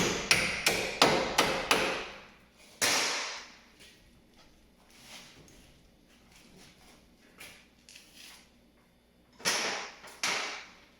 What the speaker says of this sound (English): give her a couple persuasion hits here